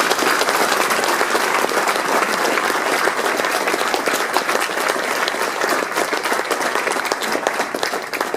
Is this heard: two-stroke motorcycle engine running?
no